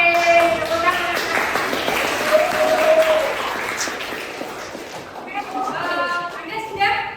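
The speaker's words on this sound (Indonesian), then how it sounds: "Oke, tepuk tangan." A classroom of students applauds, a steady, dense wash of clapping running for several seconds, with children's voices chattering and calling out over it.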